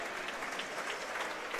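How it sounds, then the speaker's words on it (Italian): The crowd at a football match in Forte dei Marmi applauds Barcelona, a steady wash of clapping from many hands at some distance that carries on without a break. "E ci sono anche gli applausi, lo sottolineiamo, del pubblico di Forte dei Marmi"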